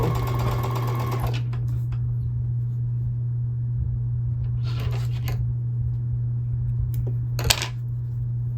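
A sewing machine stitches small quilt blocks, with a fast burst of needle chatter at the start and two shorter bursts later, all over a constant low electrical hum. No one speaks.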